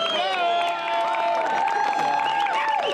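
Audience at a motorcycle road racing event at Portland International Raceway clapping and cheering, with whoops and whistle-like shouts rising over the applause, lively and fairly close throughout.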